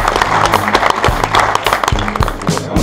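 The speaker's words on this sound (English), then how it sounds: "So big round of applause, please" Crowd applause for a sponsor at a fishing match gathering, dense close clapping mixed with sharp individual claps and bumps, loud and continuous throughout.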